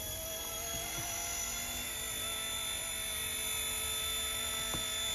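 RC ERA C189 MD500 small-scale camo RC helicopter in flight, a steady high-pitched electric motor whine with rotor buzz and a faint metallic tick or two, constant and fairly close throughout.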